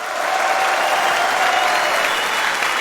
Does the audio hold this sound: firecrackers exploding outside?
no